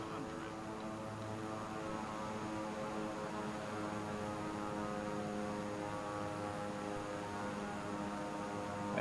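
Propeller aircraft engine drones steadily with a dense harmonic hum in Microsoft Flight Simulator 2020, holding a constant level for the whole stretch with no clear drop in throttle.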